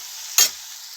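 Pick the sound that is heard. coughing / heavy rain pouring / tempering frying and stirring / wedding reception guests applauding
tempering frying and stirring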